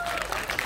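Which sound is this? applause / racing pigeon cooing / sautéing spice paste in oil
applause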